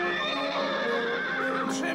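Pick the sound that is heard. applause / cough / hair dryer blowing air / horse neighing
horse neighing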